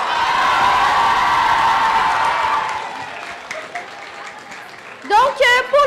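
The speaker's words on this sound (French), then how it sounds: "j'aimerais ça qu'on l'applaudisse et qu'on crie tous en même temps" A school Halloween costume contest crowd applauding and cheering, a dense burst of clapping and shouts that fades away over a few seconds before a voice speaks near the end.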